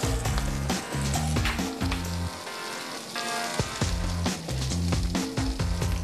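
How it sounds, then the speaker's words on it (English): Pineapple pork sausage searing in a pan for a crispy bottom, a soft continuous sizzle running under loud background music. "Just gonna let it sear. You want a nice crispy bottom, okay?"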